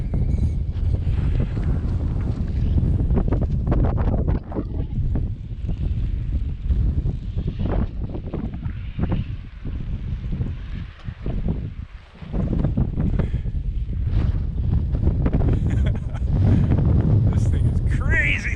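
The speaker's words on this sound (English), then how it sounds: "The wind whistling across the lines." Strong wind gusts across kite lines at a kite-flying field, a loud, continuous roaring buffet against the microphone that surges and dips throughout, with no clear whistle standing out.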